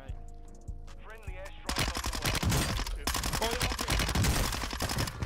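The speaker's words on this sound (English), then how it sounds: "he's shooting at me" Warzone 2 video game gunfire, rapid bursts of automatic shots with dense, loud cracks following a quieter opening, heard along with a voice talking over it.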